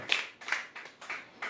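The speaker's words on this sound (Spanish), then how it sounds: "Dale un aplauso a Cristo" A church congregation clapping in praise of Christ: about four or five sharp claps land in an even, deliberate rhythm, moderately close, with no talking over them.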